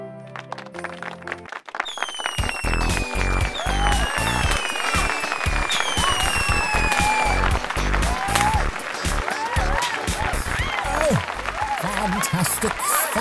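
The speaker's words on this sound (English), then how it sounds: "Fantastic, thunderous applause!" Loud, sustained applause follows a brief quieter lead-in and mixes with other bright, sweeping sound effects over a dense, continuous wash of clapping.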